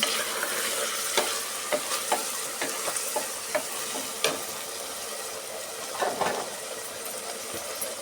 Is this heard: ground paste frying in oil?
yes